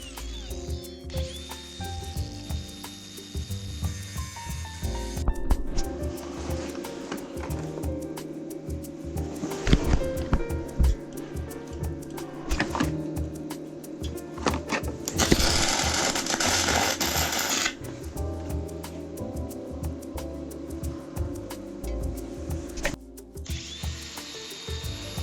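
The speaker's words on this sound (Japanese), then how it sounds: "ちょっとこの下場もきれいにサンダーで磨いて溶接していきたいと思います。" Repair work on a log sawmill with an oil-leak fault: an angle grinder sands the metal and welding follows, a close, continuous harsh mechanical grind with whining and crackling bursts, with no talk.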